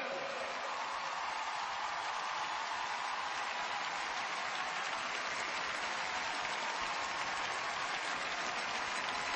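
Arena crowd at a figure skating world championship in Los Angeles applauding and cheering steadily, a dense, continuous roar of clapping that holds at even loudness throughout with no voices standing out.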